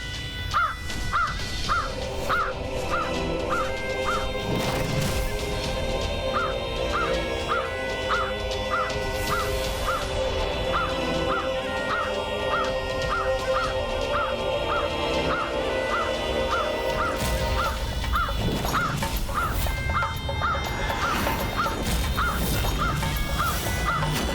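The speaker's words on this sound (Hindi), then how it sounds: "काक का कर्कश स्वर" A crow caws harshly and repeatedly in a steady rhythm, cutting through a dense, sustained bed of dramatic music and ambient sound in a mythological television serial scene.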